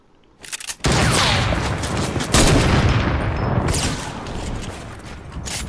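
Gunfire in the video game Fortnite erupts as a dense, loud, continuous barrage of rapid shots, with a second heavy burst about halfway through, sustained without pause to the end.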